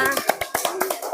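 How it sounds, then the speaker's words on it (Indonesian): Children in a primary school classroom clapping their hands together, a quick loud burst of sharp claps over about a second. "Tepuk tangan semua untuk kita semua."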